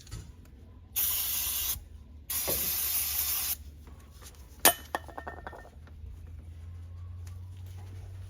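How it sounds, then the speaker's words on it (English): Cleaner is sprayed onto a brake caliper from a 2002 Oldsmobile Bravada in two loud hissing bursts, followed by metallic clinks and a sharp clank from handling the part. "this is a perfect time to realize that I don't have any brake clean left"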